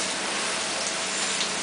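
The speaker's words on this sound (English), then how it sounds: "We will simulate a very high intense rain." Simulated high-intensity rain sprays down on a vehicle in a sealing test, a loud, dense, unbroken hiss of water that stays even throughout with no talking.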